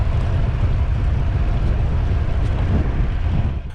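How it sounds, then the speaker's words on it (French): Steady headwind of 15–20 km/h buffeting a microphone while cycling, a constant dense low rumble and roar with no breaks, loud and close, fading slightly at the very end. "Un vent constant à 15-20 km/h de face"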